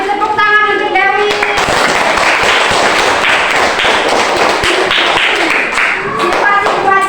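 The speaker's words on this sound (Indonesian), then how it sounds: "kasih tepuk tangan untuk Dewi." A primary school class clapping together, a dense burst of applause in a classroom that swells and then fades, with voices over it at the start and end.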